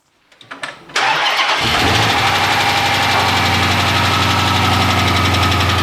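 A Dodge Charger police car's engine, after sitting unused for five years, cranks a few times, catches and roars to life, then settles into a steady, loud idle close by.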